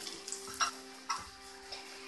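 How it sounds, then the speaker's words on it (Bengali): Onions fry in oil with cumin and a torn bay leaf while a utensil stirs them, giving a few soft scrapes and taps over a faint, steady sizzle. "একটু নেড়ে দিচ্ছি।"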